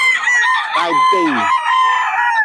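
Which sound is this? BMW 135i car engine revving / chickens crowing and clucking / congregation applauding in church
chickens crowing and clucking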